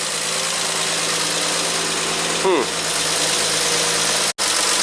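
A 1967 Triumph GT6 engine revved to about 3,000 RPM runs loudly throughout with a constant hum, briefly shifting pitch midway, with no clear revving surge.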